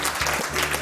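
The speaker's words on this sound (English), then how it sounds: "Please give him a round of applause again." Audience applause at a motivational speaking event, a short steady wash of clapping that carries evenly at moderate volume with no voices over it.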